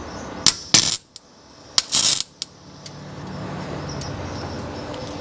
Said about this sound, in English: Oh yeah, welder's set good.